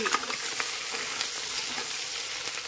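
Onions and green chilies frying in a pan for khichdi, a steady close crackling sizzle with small pops and stirring scrapes throughout, no talking.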